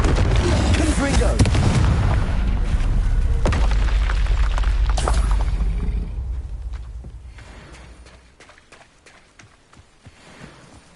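A Confringo explosive spell blast in Hogwarts Legacy on PS4 hits as a loud, booming burst with a rumbling roar that sustains for several seconds, then fades into quieter scattered crackles and debris.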